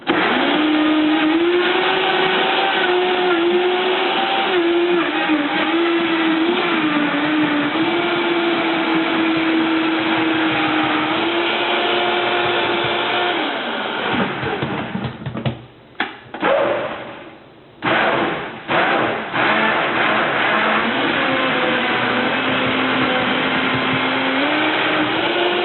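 A Vitamix blender runs at high speed on a thick cashew mixture, making a loud, steady roaring whine that dips and surges with sputtering bursts in the middle and then settles back into a constant roar.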